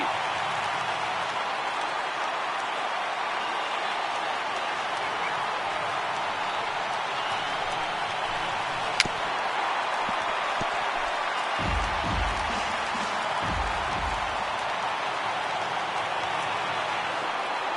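A baseball stadium crowd of over 38,000 in a PS4 game applauds and cheers as a steady, dense roar that holds throughout, with a few low thumps partway through.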